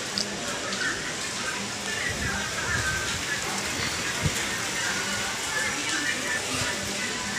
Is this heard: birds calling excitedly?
no